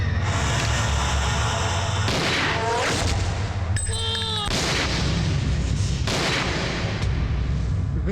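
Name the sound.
gunshot in a Telugu movie scene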